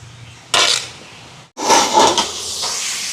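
Food being stirred up from the bottom of a large cooking pot as it roasts for a Sri Lankan almsgiving meal: two loud, rough scraping bursts close by, separated by a brief pause.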